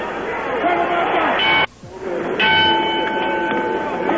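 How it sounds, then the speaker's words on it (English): The ringside bell signalling round 7 of Muhammad Ali vs Ken Norton I at the San Diego Sports Arena clangs in several rings over a noisy arena crowd, with an announcer talking. "The bells for round 7."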